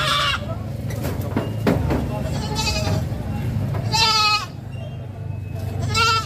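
Goats bleat several times at a livestock market, the cries near and loud, overlapping with people talking and bustle in the background.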